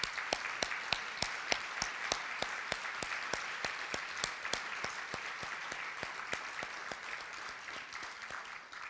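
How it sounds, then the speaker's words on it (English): A crowd at a civic celebration in Irvine gives sustained, steady applause for university guests. It is fairly loud and even throughout, with sharp individual claps standing out against the dense mass. "You deserve some applause."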